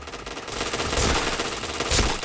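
Gunfire rattles in a shooting video game as rapid automatic bursts run in dense, continuous volleys. Two heavier blasts stand out, one near the middle and one near the end, with no talking.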